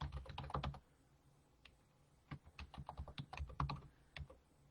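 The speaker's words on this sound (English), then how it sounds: "So I'm just typing that in the comments right now." Someone types on a computer keyboard, quiet and close: a quick burst of key clicks, a pause, then a longer uneven run of tapping.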